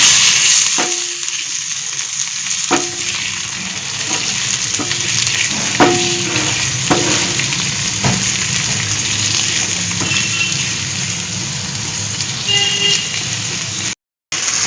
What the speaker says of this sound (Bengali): এর মধ্যে একটু সর্ষের তেল দিয়ে পেঁয়াজ কুচি, কয়েকটা টমেটো আর দুটো শুকনো লঙ্কা এর মধ্যে দিয়ে একটু ভাজা ভাজা করে নিচ্ছি